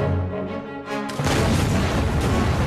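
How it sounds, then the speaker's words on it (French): Heavy artillery bombardment in a WWI trench battle: a dense, continuous low rumble of booms and blasts that swells louder partway through and stays loud and crowded to the end. "les deux camps se livrent d'abord à un duel d'artillerie"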